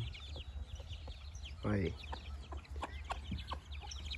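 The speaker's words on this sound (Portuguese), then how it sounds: "umas galinhas caipira aqui do Mato Grosso, ó. Comendo a raçãozinha do chão." Free-range black chickens in Mato Grosso cluck softly while pecking feed off the ground, a few brief calls over steady outdoor background, with someone speaking briefly.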